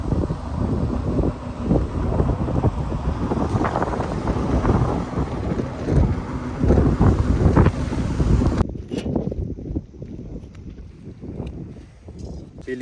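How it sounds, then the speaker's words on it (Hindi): Strong storm wind buffets the microphone in loud, gusty roars, then drops abruptly to a quieter, thinner rush near the end. "काफ़ी तेज़ हवा चलने लग गई है अब तो"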